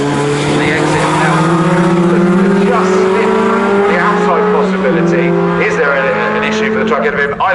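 Racing pickup trucks roar around the Snetterton circuit, a loud sustained engine drone with shifting pitch and occasional tyre squeal, under a race commentator's voice.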